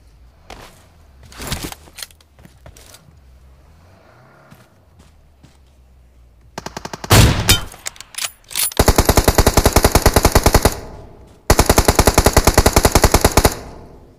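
Loud bursts of automatic gunfire in BGMI (PUBG Mobile) gameplay, with an AWM in use: a few scattered shots and footsteps, then long rapid strings of fire.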